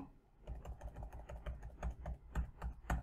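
Fast, steady clacking of keys on a computer keyboard as default text is typed into a form, heard close up and fairly quiet, with no talking.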